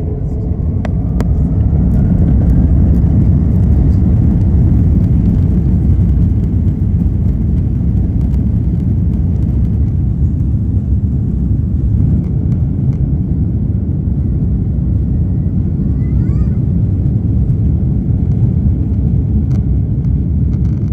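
An Aer Lingus airliner's engines during the takeoff roll from a Denver runway, a loud continuous low rumble and roar heard from inside the cabin, steady throughout.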